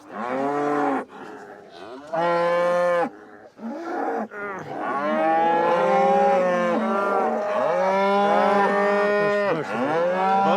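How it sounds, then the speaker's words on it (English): Crossbred breeding cows, Angus among them, low loudly on a farm on Orkney. Several long, drawn-out moos overlap and follow one another closely with short pauses between them. "These ones are all breeding cows."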